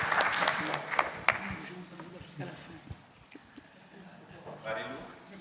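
Audience applause for panelists at a UNESCO forum on the African fashion sector, a burst of clapping at the start that fades into murmuring and voices, with a brief swell of clapping again near the end.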